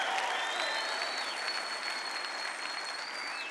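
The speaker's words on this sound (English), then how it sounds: "give the Lord a good clapping for that right now" A church congregation gives a short burst of applause during a sermon. The dense clapping is steady and moderately loud and then tapers slightly, with a faint tone sounding in the background.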